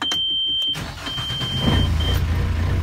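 A sailboat's engine turns over and catches after being bled, its low rumble rising and settling into a steady running drone, close by with a faint high whine above.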